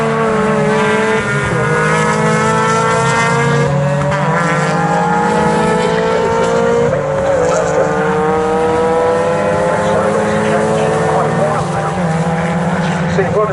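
MaX5 championship race cars scream past on the track completing a flying lap, with loud sustained engine tones rising and falling in pitch as several cars pass close by, under commentary.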